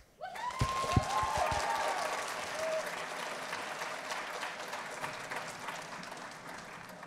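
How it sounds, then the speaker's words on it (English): A concert audience applauds the McQueen Choir seniors at a spring concert; scattered claps and a few sharp ones ring out early, then settle into a steady, moderately distant round that slowly tapers. "please give a round of applause to the McQueen Choir seniors"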